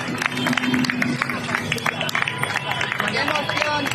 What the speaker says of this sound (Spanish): los agricultores llegaban a Madrid entre vítores y aplausos